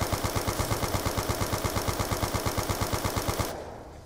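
A gun in Black Ops 2 Zombies on the Origins map fires a fast, evenly spaced automatic burst with heavy recoil, loud and continuous for about three and a half seconds before cutting off abruptly.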